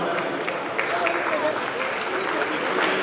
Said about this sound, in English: A big round of applause, please, ladies and gentlemen